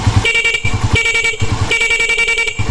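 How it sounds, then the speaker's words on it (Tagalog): A loud car horn boosted by an added capacitor honks in three long blasts separated by short gaps, very close, with a rough buzzing tone. "ito po yung kanyang busina o ito mga pare malakas eh lumakas po yung ating busina"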